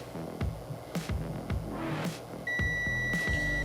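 Digital multimeter giving a steady continuity beep while its probes test an SMD inductor coil on an iPhone or iPad board. The tone starts partway through and holds under repeated low thumps and clicks.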